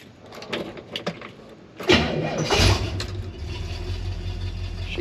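A 1965 Chevrolet Malibu SS with a Holley carburetor has its V8 cranked over and fired up, a short burst of starter whir catching into a deep, steady idle that holds close and loud after a few faint clicks.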